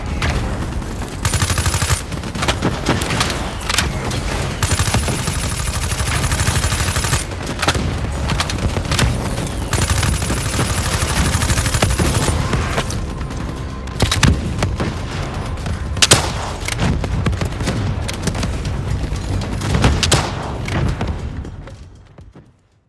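Heavy, loud gunfire aimed at an AST in Call of Duty Black Ops 3, with dense bursts and thudding impacts running nearly the whole time before cutting off at the end.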